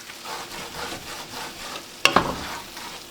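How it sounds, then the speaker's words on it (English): A spoon stirs a deglazed pan over medium heat as food sizzles softly, with steady scraping strokes and a sharp clack of the utensil against the pan near the end, close and with no talk. "Medium heat, stir it around a little bit."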